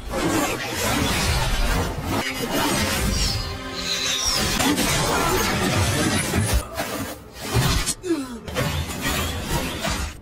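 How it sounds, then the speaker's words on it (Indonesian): A control device shatters in a film action scene, heard as a dense, loud crashing and breaking burst mixed with whooshes, sustained for several seconds and then breaking into sharper scattered impacts near the end. "Alat pengendali milik Gaoyang hancur"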